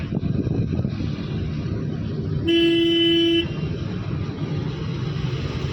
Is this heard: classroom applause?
no